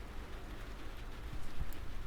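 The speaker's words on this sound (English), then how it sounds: "It's actually raining now." Rain falls steadily as a dense, close, constant wash with occasional heavier drops, no talking.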